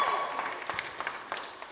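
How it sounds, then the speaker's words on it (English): A live audience at the launch of the Everything is Tuberculosis book tour claps steadily in a light, patter-like wave. Scattered individual claps stand out as the applause gradually fades. "That's actually fewer claps than I expected."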